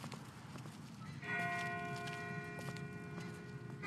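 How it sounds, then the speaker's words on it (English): A distant church-style bell tolls with long sustained ringing tones over a low rumbling ambience in the video game The Walking Dead, faint and far off. "That's not the same bell as before. This one's further off."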